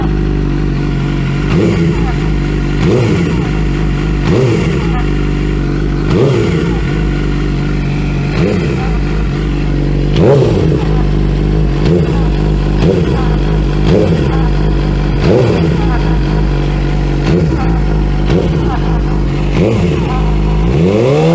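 A Honda SRAD 750 motorcycle engine idles with a fault noise, running steadily and close with a rhythmic clattering knock repeating about every second over the low engine hum.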